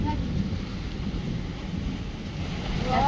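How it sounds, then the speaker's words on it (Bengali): A storm in an open field: wind roars and rain pours in a steady, dense wash of noise with gusting swells, with no voices. "এতটা ঝড় বৃষ্টি হবে তো ভাবনাই ছিল না"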